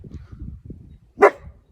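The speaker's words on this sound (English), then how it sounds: "Sometimes when she stands barking here, I still want to record it." A dog at a rural Portuguese house barks once, loud and close and sharp, after a moment of low rustling and murmuring sounds, with no talking.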